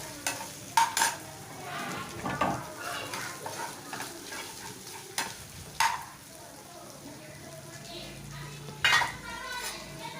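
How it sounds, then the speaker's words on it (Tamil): Clattering spoon against a pan with soft sizzling as ingredients are stirred, irregular scraping knocks, close by. "நறுக்கி வச்சது எல்லாத்தையும் மறுபடியும் அதில் போட்டு நல்லா நம்ம வதக்கி விடணும்"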